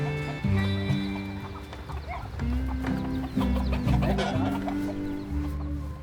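Chickens clucking on an organic egg farm, steady close-up calls layered with low tonal background sound throughout, no voices.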